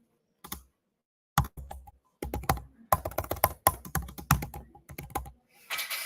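Code being typed on a computer keyboard, close clattering keystrokes in irregular bursts separated by short pauses, with no talking.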